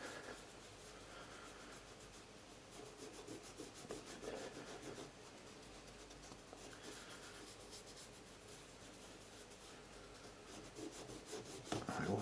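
Soft, quiet rubbing and brushing as Kiwi wax polish is buffed onto the toe of a Caterpillar safety boot, a continuous scratchy swishing with uneven strokes, close up and alone.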